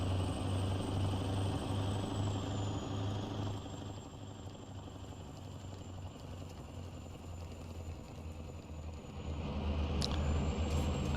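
A heavy Mack road-train truck engine rumbles continuously in American Truck Simulator, a deep steady drone with a thin whine on top and a brief hiss near the end.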